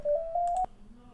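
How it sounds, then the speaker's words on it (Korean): A phone rings with an incoming call during a physics lecture: one steady electronic tone lasting just over half a second, cut off by a sharp click, then quiet room hiss. "잠깐만요. 전화가 왔네요."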